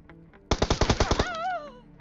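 A rapid burst of about eight sharp shots rings out in the mobile battle game PUBG Mobile, evenly spaced and punchy, followed by a short whistling tail as the burst fades.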